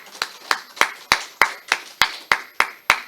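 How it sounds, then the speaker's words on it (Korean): A congregation at an early-morning church service claps in a steady, even rhythm, about ten crisp claps spaced roughly a third of a second apart, close and clear with no talk over them. "여러분 박수 한번 합시다"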